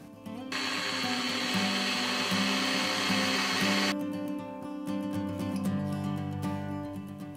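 A loud, steady whining drill bores a 3.2mm hole into a metal rod, its high grinding pitch running for several seconds before shifting to a lower, rougher hum.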